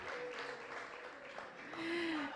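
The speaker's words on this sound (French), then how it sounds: "On l'applaudit, s'il vous plaît." Crowd applause at a talent show as participants are called by name, continuous clapping under background voices, with a sustained tone rising near the end.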